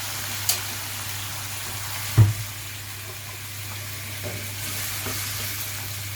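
Chicken and cauliflower gobi gosht frying in a pan, a steady low sizzle running throughout with a single sharp clank of a utensil near the middle and faint stirring scrapes, no talking.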